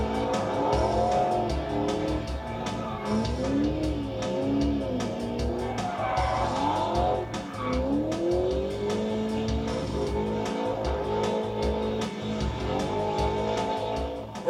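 A modified Cadillac CTS-V with magnetic ride control and Brembo brakes is driven hard on a road course, engine roaring continuously through rising and falling revs as it shifts and accelerates, loud and close.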